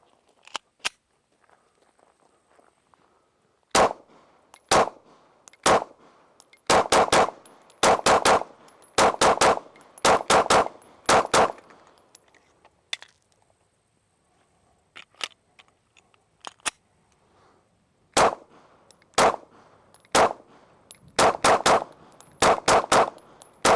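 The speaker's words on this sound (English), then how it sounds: "testing out the BCA drop-in replacement barrel for the G19. I'm going to run 2 mags through it," A Glock 19 pistol fitted with a BCA drop-in replacement barrel fires at a range in sharp, loud shots, some single and some in quick bursts of three or four, with quiet gaps between strings.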